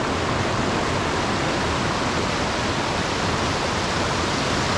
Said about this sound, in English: There's a lot of very small waterfalls around here